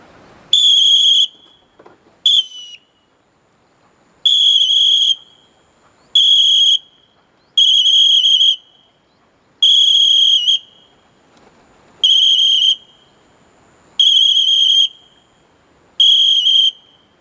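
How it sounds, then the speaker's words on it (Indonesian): A shrill whistle blown as a signal to a pigeon colony, sounded in nine sharp blasts of about a second each with short silent gaps between them, loud and close with nothing else around it. "Biasanya saya pakai peluit panjang."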